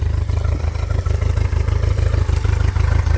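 A 1999 Honda 90hp inline four-cylinder four-stroke outboard with four carburetors, run in salt water, idles steadily with a loud, even low throb and light mechanical clatter throughout.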